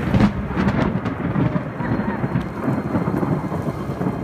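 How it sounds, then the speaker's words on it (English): Heavy rainstorm turning to hail at a hotel in Galicia on the Camino de Santiago, a dense, loud, constant wash of rain and pelting impacts with low rumbles underneath. "it's a crazy rainstorm which turned into a huge hailstorm"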